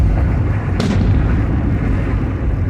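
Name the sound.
firework or gunshot going off in the street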